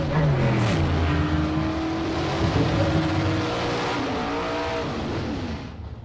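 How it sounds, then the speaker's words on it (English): Drag race cars at a bracket racing event, loud engine roar with falling pitch as the cars speed down the strip and fade, no voices heard. "Advantage to Mark. This race is done."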